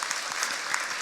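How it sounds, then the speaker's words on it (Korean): A church congregation at a Sunday service claps in welcome, a brief, soft, even patter of many hands heard from some distance in a large room. "우리 박수로 환영하도록 하겠습니다"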